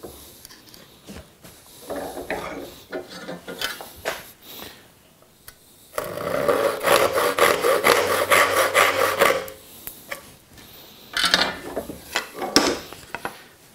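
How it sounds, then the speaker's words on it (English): A hand saw cuts wood for dovetail joints, a rasping back-and-forth stroke that comes in bursts and rests, louder and steady in the middle stretch and again near the end, with no talking. "we're just going to do it with the saw right here. So we'll come in, saw down that one, and grab the other side."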